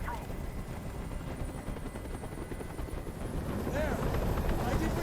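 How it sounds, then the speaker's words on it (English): Helicopter in the game Detroit: Become Human, a continuous rotor thrum that swells slightly toward the end, mixed with other game sounds. "Tell that helicopter to get out of here."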